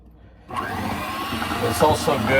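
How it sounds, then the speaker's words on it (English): An electric blender whirs steadily through milk cupcake batter in a round bowl, starting abruptly after a brief quiet moment and running loud and continuous, with some muffled background voice beneath it. "you could do it without one of these blenders, but it always works best"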